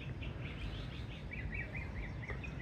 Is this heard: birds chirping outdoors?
yes